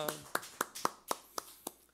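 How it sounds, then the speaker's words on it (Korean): A church congregation at a Sunday worship service claps in praise: about seven sharp, evenly spaced claps in a quick rhythm, fairly faint, with a voice heard at the very start. "우리 목자이신 우리 예수님께 영광의 박수를 올리십시다"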